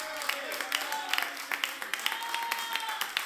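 Applause from a church congregation during a Spanish-language sermon, a moderately distant wash of clapping with scattered louder claps, a sustained tone and voices underneath.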